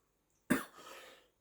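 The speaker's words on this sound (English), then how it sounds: "I'm coughing away" One short, sharp cough from a man indoors, close to the microphone, followed by a brief breathy tail, with silence before and after.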